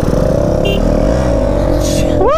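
KTM Duke 390 motorcycle engine running loud and close, with a steady droning tone that swells slightly, and a brief rising whine near the end.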